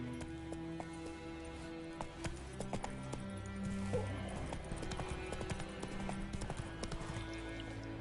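A horse in The Witcher 3 trots along under its rider, hooves clip-clopping in a steady quick rhythm close by over game ambience and faint background sounds.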